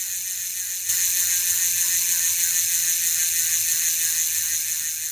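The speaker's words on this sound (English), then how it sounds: "this is FSA's Afterburner hub. It comes with 6 pawls and 54 points of engagement. Oh, and it sounds pretty sweet too." An FSA Afterburner bicycle hub with 6 pawls and 54 points of engagement freewheels, its ratchet buzzing in a fast, continuous clicking whir that starts abruptly after a moment of quiet and holds steady, close and fairly loud.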